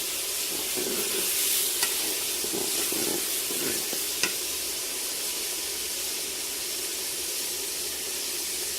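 Ginger garlic paste fries in a pot with a steady, bright sizzle and hiss, with occasional scrapes and light clinks of stirring, loud and continuous throughout.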